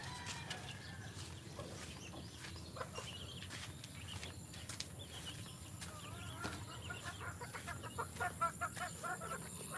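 A chicken in a live-streamed video game clucks softly in short, scattered calls over a quiet background hum, faint and fairly close, with no talking.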